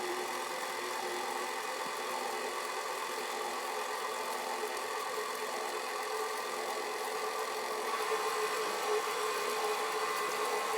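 An electric stand mixer running on low speed, mixing gluten-free pizza dough made with quinoa and potato: a steady, continuous motor whir and hum at an even level throughout, with no talk.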